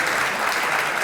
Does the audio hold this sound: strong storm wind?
no